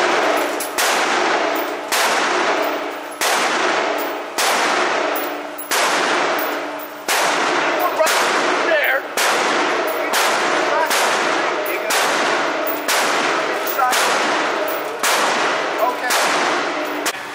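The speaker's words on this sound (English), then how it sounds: "You might as well shoot the three at the top now" Guns firing at a shooting range, a long series of sharp loud shots at fairly regular intervals, each decaying briefly before the next.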